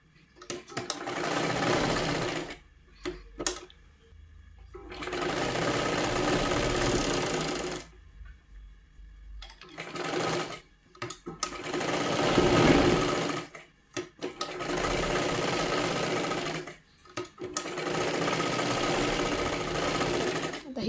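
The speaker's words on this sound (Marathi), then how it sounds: "आता हे पूर्ण व्यवस्थित आपल्याला शिलाई करायचं आहे दोन्ही सुद्धा." An electric sewing machine stitches the pieces of a size 36 katori blouse, running in long steady bursts of a few seconds each, broken by short pauses, loud and close with no talk.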